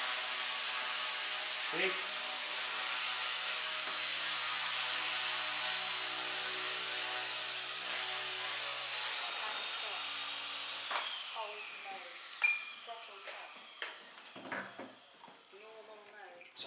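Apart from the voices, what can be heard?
Blade mCP X BL2 RC helicopter landing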